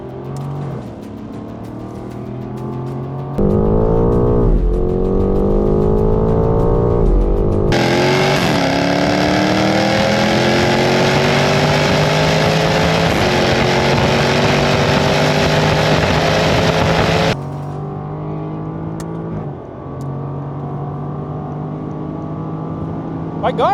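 A Jaguar F-Type accelerates hard in a drag race, its engine climbing through long gears with rising pitch and loud, sustained roar, with voices heard around it.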